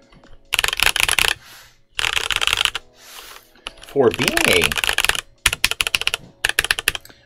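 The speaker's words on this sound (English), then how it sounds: "it sounds like a stock keyboard, but it sounds better than a lot of keyboards." Bursts of crisp clacking on a Royal Kludge RK920 full-size mechanical keyboard in quick runs, close and fairly loud, separated by short pauses, with a voice speaking briefly between them.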